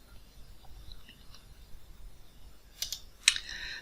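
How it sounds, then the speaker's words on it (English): A few isolated computer keyboard key presses on a Windows PC, two sharp clicks near the end after quiet room tone, with no talking. "Even though I pressed the T key twice in quick succession there"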